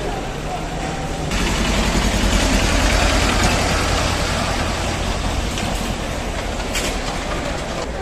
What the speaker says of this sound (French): Le tracteur poubelle.